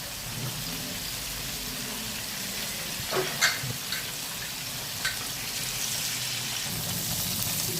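Fish frying in coconut oil in a pan, a steady close hissing sizzle that runs throughout, with a few brief louder crackles and pops and no talking.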